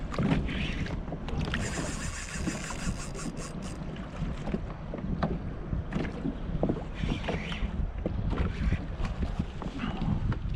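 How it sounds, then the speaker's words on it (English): A kayak is pulled back through the water during saltwater fishing for blackfish, with a close, continuous rubbing swish and splashing that swells in waves, mixed with wind buffeting the microphone, and no speech. "Let me pull the kayak back."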